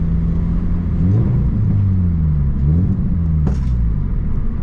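A car with a catback exhaust blipped with light throttle taps, its deep rumbling idle rising into a few loud revs that climb and fall back, close and dominant with no voices.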